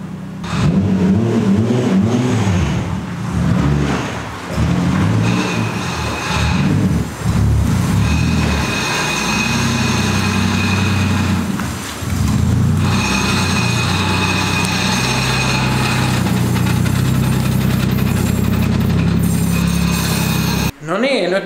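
A Toyota JZX100 Chaser is driven slowly indoors, its engine rumbling and revving steadily for about twenty seconds, loud and close, with clinks and knocks as it moves.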